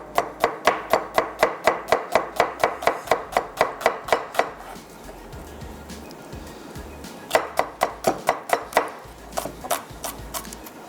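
Onions being sliced with a knife on a board, a quick regular run of crisp chopping taps, a pause, then another fast burst of cuts, close and clear.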